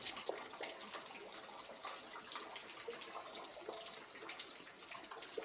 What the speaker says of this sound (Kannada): ಮೇಲಿಂದ ನೀರು ಈ ಟ್ಯಾಂಕಿಗೆ ಬೀಳ್ತದೆ